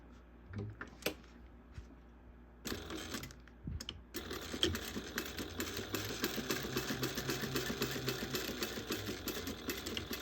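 A sewing machine runs a continuous stitch along the edge of a bag. A few scattered clicks and handling sounds come first, then a steady, close mechanical whirring chatter.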